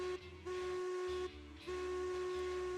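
Steam locomotive whistle, a Heisler, in the railroad game Railroads Online: a short toot, then two long, steady, loud blasts separated by brief gaps, with a low mechanical rumble underneath.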